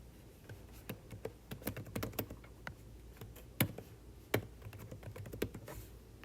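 Fingers type a username and password on a computer keyboard, a quiet, close patter of uneven key clicks with a few harder taps among them and no talk.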